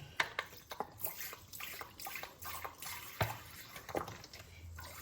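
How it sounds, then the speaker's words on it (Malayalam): Vinegar splashing and dripping into a pan of fried mackerel for fish pickle, with small irregular drips and splashes over a soft background hiss. "നമ്മൾ ഒഴിക്കുന്നത് വിനാഗിരി ഒന്ന് ഒഴിക്കും വിനാഗിരി"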